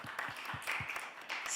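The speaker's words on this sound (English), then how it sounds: "So another big round of applause for our panelists, everyone." Audience applause for panelists at a COP28 climate and energy policy event, a short burst of fairly quiet, steady clapping with a few sharper hand slaps.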